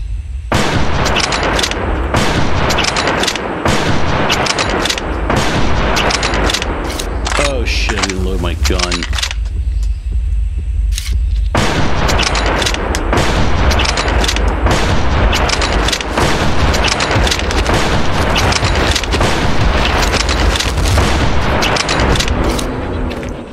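Rapid, loud gunfire at a T-Rex in the Prehistoric Hunt video game: dense bursts of shots and booms, broken by a short quieter lull, with a voice talking faintly under the din.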